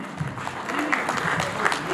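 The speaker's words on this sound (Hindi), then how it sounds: "जोरदार तालियां एवरीबॉडी" Audience clapping welcoming the chief guest at a business and entrepreneur awards ceremony in Jaipur, a brief burst of applause with an announcer's voice over it.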